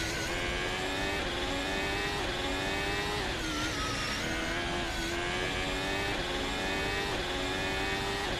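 Ferrari Formula 1 car mod on the Spa circuit in a racing game, its high-revving engine screaming steadily close by, pitch climbing through each gear and dropping sharply on every upshift, with no voices.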